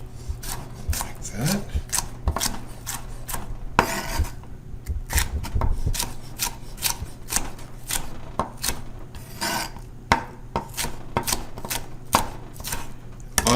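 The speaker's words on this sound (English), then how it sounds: "we will just kind of cut these down into strips" Kitchen knife slicing vegetables into strips on a cutting board, sharp irregular chops and taps in quick runs, close and clear, with a voice talking briefly over the cutting.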